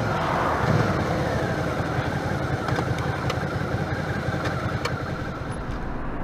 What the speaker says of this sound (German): da fährt ein Trecker auf der Autobahn